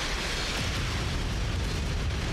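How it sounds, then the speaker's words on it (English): Airstrike explosions pound a base in MechWarrior 5: Mercenaries, a continuous, dense rumble of blasts and booming impacts that fills the whole stretch with no break and no talk. "Bombarding our own base"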